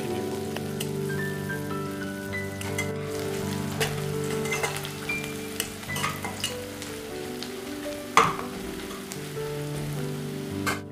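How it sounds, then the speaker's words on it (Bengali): Two sliced medium onions frying in a pan until reddish-brown for a Malabar spinach seed and tiger prawn chochori, a steady bed of close sizzling with occasional stirring clatter, no talk. "এবারে পেঁয়াজ কুচানোগুলোকে একটু লাল লাল করে ভেজে নেব।"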